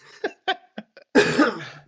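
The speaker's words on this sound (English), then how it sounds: "Excuse me, I do have a cold. I'm going to be coughing." Several short, breathy coughs in quick succession, then a longer, harsher burst, close and fairly quiet.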